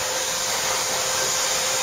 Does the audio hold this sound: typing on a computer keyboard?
no